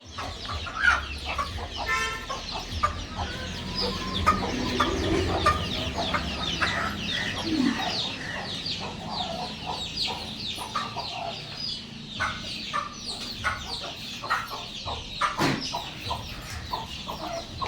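Desi hens clucking in a steady, busy stream with occasional louder squawks, close by, over a low rumble of farmyard background noise.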